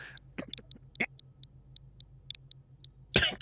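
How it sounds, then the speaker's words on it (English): A single sharp cough bursts out near the end, after a few soft vocal sounds, over a faint repeating tick. "I coughed a little bit."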